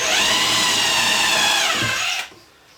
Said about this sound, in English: I'm actually using an impact driver to drill this pilot hole